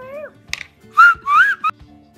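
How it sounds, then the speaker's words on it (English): A five-year-old child whistles a few short, wavering notes with small gaps between them, close and clear, with no speech over them. "Can you whistle?"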